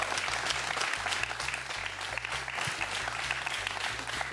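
Applause from a lively audience at a Maşin Şou comedy show, broad steady clapping that holds at even strength across the clip, with an underlying rhythmic low thump beneath it.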